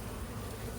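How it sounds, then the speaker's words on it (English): Honey bees from a backyard hive in North Port, Florida, robbing one another, heard as a steady close buzzing drone that lasts through the whole short moment, with no voices. "So these bees are trying to steal the pollen off of this bee"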